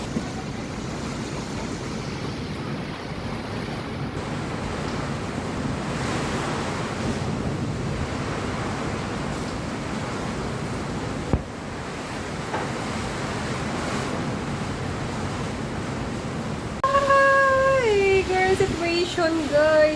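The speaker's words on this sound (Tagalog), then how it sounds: "ang lakas ng hangin at ulan" Typhoon wind roars and gusts against a steady wash of heavy rain, loud and close, with a brief high whine near the end.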